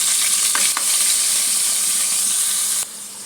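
Coconut paste hits hot ghee with cardamom pods and cinnamon pieces, making a loud, close, continuous sizzle with a few quick stirring scrapes. It softens suddenly near the end, with no speech.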